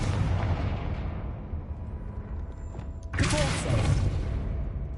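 A Confringo blasting spell goes off in the Hogwarts Legacy video game: a rumbling, crackling background swells into a sudden loud explosive burst about three seconds in, followed by a sustained roaring blast.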